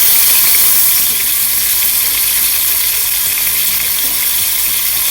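Thai noodles fry loudly in a pan with a dense, continuous sizzle and hiss, close up, while they are turned. No talking is heard.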